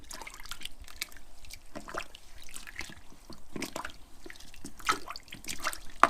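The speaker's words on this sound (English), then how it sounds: "And then give it its final stir." Elderflower champagne homebrew mixture is stirred in a container, soft close sloshing and liquid swirls with faint drips and small knocks against the side, gentle and irregular without talk.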